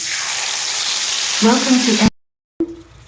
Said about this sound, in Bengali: আর এদিকে আমি কড়াইতে তেল দিয়ে দিব দিয়ে দিব গোটা গরম মশলা এলাচ দারচিনি